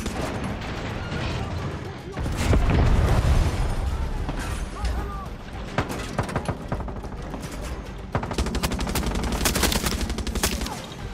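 Far Cry 6 combat roars with machine gun bursts and heavy tank blasts, a deep boom early, then rapid rattling fire building toward the end, all loud and close.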